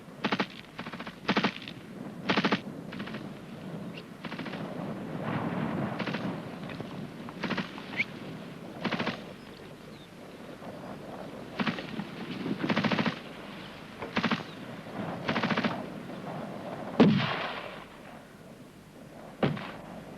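A GPMG machine gun and rifles firing during an infantry section assault in a 1971 military training exercise, with repeated sharp bursts and single shots at irregular intervals, moderately distant and echoing outdoors.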